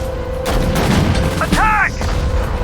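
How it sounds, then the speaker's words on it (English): Gunfire and explosions in the World War II strategy game Sudden Strike 4, set in the North African desert at El Alamein: a loud, steady clamour of shots and booms with voices briefly shouting over it. "Open fire!"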